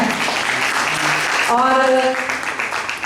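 Women entrepreneurs at an MSME event in Patna clap as an audience, steady applause heard under a speaker's voice, which carries on through it.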